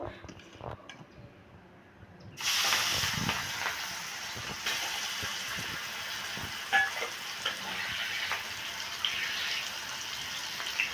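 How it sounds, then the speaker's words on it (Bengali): Shrimp hit hot oil in a wok and burst into a loud, steady sizzle that holds to the end, with a few quieter clatters before the frying starts. "চিংড়ি মাছটা আমি হালকা করে ফ্রাই করে নেব"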